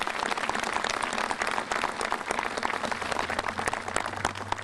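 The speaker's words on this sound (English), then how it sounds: "How about a nice round of applause for them?" An audience applauding at a Veterans' Day ceremony, a steady, moderately distant roar of many hands clapping that continues throughout, with a low hum appearing near the end.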